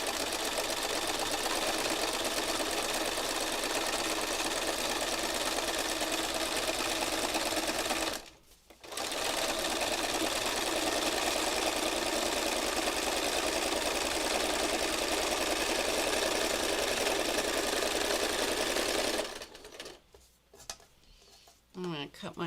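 Sewing machine free-motion stitching a fabric heart, densely stitching with a steady fast whirring hum that runs nearly continuously, breaking once briefly and trailing off near the end.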